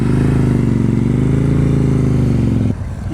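A motorcycle engine runs loud and close at slow speed with the clutch being popped, giving a steady uneven chugging drone that drops off abruptly near the end during an advanced slow-speed riding practice session.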